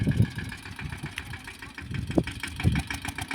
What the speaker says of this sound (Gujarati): પાછું રિવેસમાં ટ્રેક્ટર જવા દે